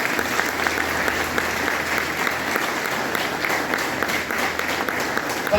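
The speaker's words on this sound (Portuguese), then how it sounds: "Você pode aplaudir Jesus?" A church congregation applauds steadily, the dense clapping of many hands sustained evenly throughout at close range with no pauses.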